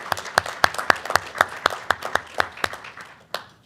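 A small school board meeting audience applauds the Boy Scout Troop 64 after their presentation of the colors, with sparse, distinct handclaps at a steady rhythm that fades to a few last claps, close and fairly loud, with no talking.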